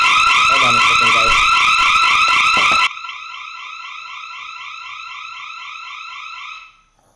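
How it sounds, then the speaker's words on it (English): A house alarm set off when a door was opened blares as a loud, rapidly warbling electronic tone. Voices and other noise sit under it at first, then the alarm sounds alone at lower volume for several seconds before cutting off. "my little brother opened the door while there was an alarm on"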